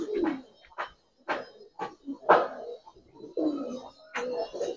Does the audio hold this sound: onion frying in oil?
no